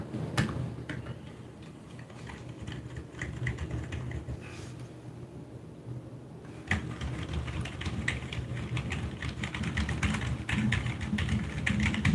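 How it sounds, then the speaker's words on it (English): Computer keyboard typing: rapid, steady clicking and clacking of keys held close for the whole stretch, growing denser and louder partway through, with no voices. "So I don't hear you clickety clacking at night."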